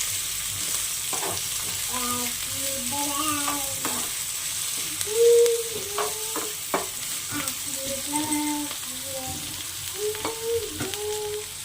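Onions frying in a pan with green chillies and curry leaves for an eggplant yogurt chutney, a steady close sizzle with repeated stirring and scraping strokes, no talk.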